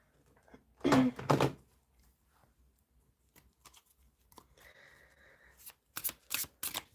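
Tarot cards are shuffled by hand in two quiet bursts of riffling, one early and one near the end, with soft handling taps and a faint tonal hum in a still room between them.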